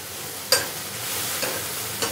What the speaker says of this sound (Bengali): আমার এটা অলমোস্ট ভাজা হয়ে গেছে।